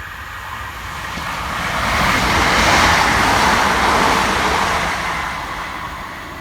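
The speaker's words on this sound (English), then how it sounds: "Next to fly through the station for Great Western Railway is 387152, working 2P40 from Dinkert Parkway through to London Paddington." A Great Western Railway class 387 electric train races through a station at Taplow without stopping, a broad rushing roar that swells to a peak midway and then fades as it passes.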